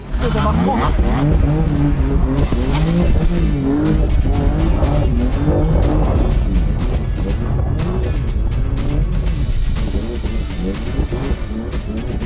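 A BMW M4 is driven hard across a field, its engine roaring continuously at high revs with tire squeal and skidding mixed in, loud and close, while people talk over it throughout.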